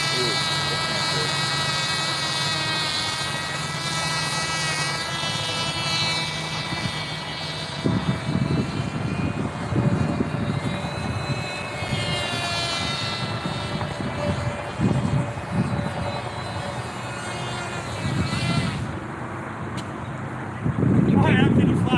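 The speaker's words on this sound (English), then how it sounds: "How can you fly this hell? You cannot get it up that high. The airplane don't fly worth a shit." Propeller airplane engine droning steadily in the Stunt Hangar flight video game, a continuous tonal hum with shifting pitch running throughout, overlaid by game music and rumbling bursts of noise.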